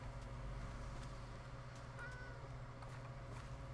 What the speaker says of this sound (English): Where's the meowing coming from?